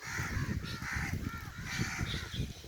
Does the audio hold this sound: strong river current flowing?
no